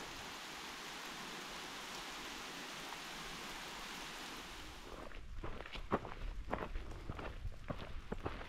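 Steady broadband hiss of rain falling on a mountain trail, then sharper patters and knocks as drops and small hail strike nearby surfaces in the second half.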